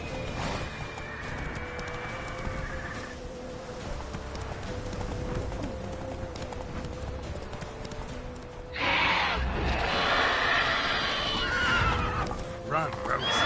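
Roach, the horse in The Witcher 3, gallops with steady clip-clop hoofbeats and whinnies, loud and close under game music and combat noise, with a burst of louder action near the end.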